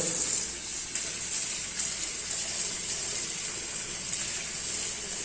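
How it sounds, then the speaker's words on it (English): Tap water runs in a steady hissing stream, close and fairly quiet, with slight shifts as moong bean sprouts are held under it. "simply hold it under running water"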